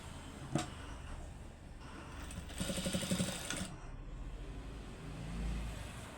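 A sewing machine stitches a blouse in short bursts, with one quick run of steady, rapid needle clatter in the middle, quieter handling noises around it, and a brief whir near the end.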